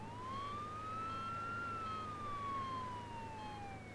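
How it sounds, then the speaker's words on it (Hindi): An ambulance siren wails in one long, smooth rising and falling sweep, moderately close and alone, with no talk over it. "एम्बुलेंस में सायरन होती है, सायरन के बजने से रास्ता मिलता है"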